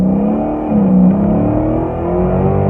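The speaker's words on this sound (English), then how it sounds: "Let's see what it sounds like." A Dodge Charger Scat Pack Hemi V8 with a mid-muffler delete revs loudly and close up, its deep exhaust note rising and falling in a sustained, throaty roar without any talking.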